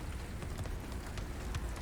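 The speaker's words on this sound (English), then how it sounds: "nope, it's raining, we hate it" Rain falls in Subnautica Below Zero as a steady, dense patter with scattered sharper drops, even in level throughout, with no voices.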